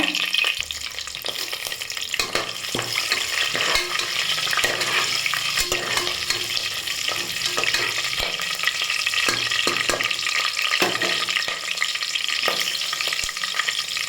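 Star anise, cloves, fennel seeds and green chilies frying in hot oil for prawn biryani, a continuous close crackling sizzle with frequent sharp spits and pops and occasional stirring scrapes.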